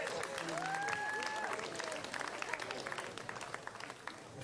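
Rally crowd applauding volunteers at an outdoor Fraser Coast event, sustained clapping with cheering voices and a whistle, gradually thinning toward the end.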